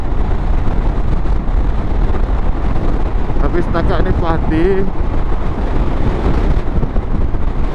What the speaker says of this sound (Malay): Itu angin yang terkena windshield tu, dia ada macam wave.